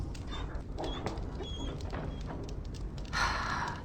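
A dog whimpering softly in Dragon Age: Origins, a few faint high whines over a quiet background hum, with a brief rustle near the end.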